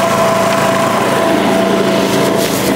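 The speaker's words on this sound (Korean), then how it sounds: "발판을 밟고 이렇게 당기면 시동이 걸리게 되어 있고요." A 4-stroke 76cc backpack blower engine runs loud and close with a steady, high-pitched buzz throughout, with no pauses or talk.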